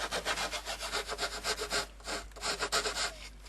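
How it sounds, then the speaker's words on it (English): Quick, rhythmic rasping strokes of a hand rasp filing the edges of a square router hole cut in a wooden router table top, close and loud with a brief pause midway. "Clean it up with a rasp"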